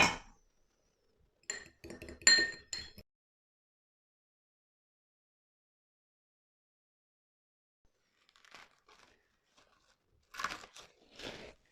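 Spoon stirring egg yolk, milk and olive oil in a bowl for pide dough: a few short bursts of clinking and scraping, separated by long quiet stretches, fairly faint and close.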